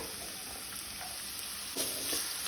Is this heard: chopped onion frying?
yes